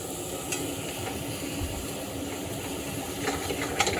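Butter sizzles in a pan sauce for pork chops, a soft steady crackling hiss with a few faint clinks of a utensil against the pan, quiet and close.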